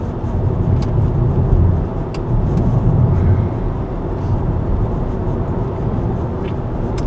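A Tesla electric car drives fast, heard from inside the cabin as a loud, continuous low rumble of road and tire noise that swells and eases slightly.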